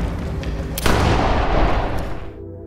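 A gunshot in an action film: a sharp, loud report cracks out just under a second in, followed by a booming tail that rings and fades over the next second and a half.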